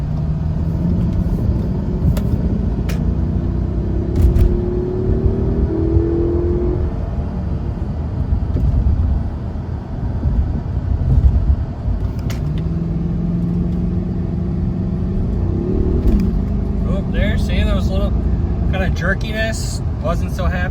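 An Audi A6 with suspected transmission trouble drives along, its engine rumbling and rising in pitch as it runs up through the gears, with road noise throughout and steady talk over it.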